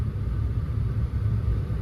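A Saturn car with an engine misfire idles after starting, a close, low rumble with a slightly uneven, pulsing rhythm throughout.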